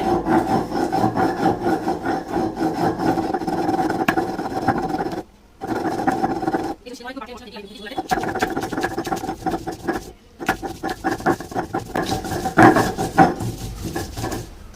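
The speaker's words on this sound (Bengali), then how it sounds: "এবার পেশাই করে নেব বেটে নেবো সরষে আর কাঁচা লঙ্কাটা ভালো করে" Mustard seeds and green chilies are ground on a flat stone slab with a stone pestle, giving a rhythmic, close scraping and rubbing that continues for several seconds with brief pauses.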